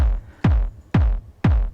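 The PX3 wavetable preset of the Ohmforce Bohm synth plugin plays three evenly spaced percussive bass hits, each with a sharp digital attack, a falling pitch and a short reverb tail, loud and up front.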